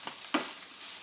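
Eggs and meat being mixed in a frying pan, with a soft steady sizzle and two brief scrapes of stirring, quiet and close.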